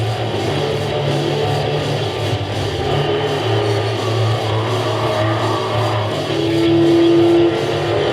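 Ram Hemi engine in a NASCAR truck series truck, a loud sustained rumbling drone with revving surges, swelling near the end, heard alone without talk.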